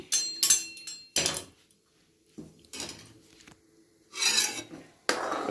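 A spoon scrapes and rasps against a pot as a boiling Pahari village dish is stirred during the Harela festival. The sound comes in short, separate bursts of scraping with quiet gaps between them.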